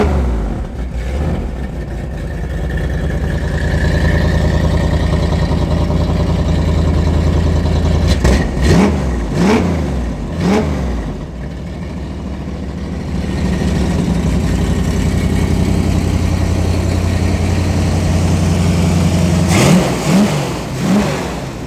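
A 1967 Mustang engine cranks and fires, settling into a loud, rough idle broken by several sharp throttle blips, then holds a steady idle before another rev near the end.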